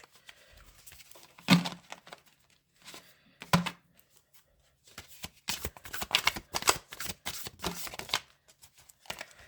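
Tarot cards being shuffled by hand in soft, quiet bursts: a few isolated riffles and taps, then a denser run of rapid papery flicks, close and faint with no talking.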